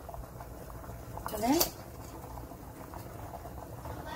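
Water boiling in a covered pot with a small hole in the lid while coconut flan cooks, a steady bubbling hiss with a brief louder burst of sound, as someone speaks briefly.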